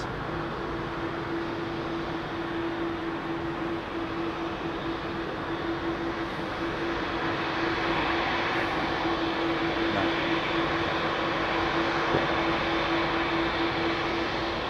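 A JetBlue jet departs Heathrow's runway 27R, heard as a steady, broad engine roar that holds for the whole stretch, with a sustained low drone and a slight swell toward the end.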